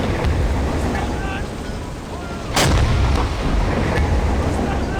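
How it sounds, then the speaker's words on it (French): An enemy ship's gun firing at a submarine in the video game Silent Hunter 5, heard as a single sharp distant-sounding blast midway through, over constant wind, water and engine rumble. "je crois que le navire nous tire dessus"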